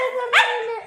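A puppy gives one short, high yip-like bark, quick and close, against a quiet background.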